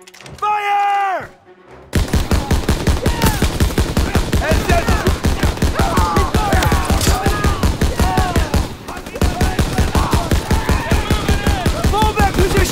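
Call of Duty WWII video game gunfire pours out in a dense, loud, continuous stream of rapid shots, briefly pausing once, with a short voice at the start and shouting under the barrage.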